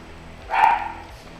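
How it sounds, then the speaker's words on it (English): A dog kept at a studio gives a single short bark indoors, moderately loud and brief against a quiet background. "My dog is barking."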